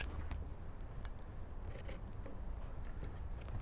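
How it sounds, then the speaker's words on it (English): Fabric scissors snip through bias binding for a Hong Kong bound seam, giving a run of close, light, crisp cutting and rubbing sounds with no talking. "It's probably easier to do with a small pair of scissors"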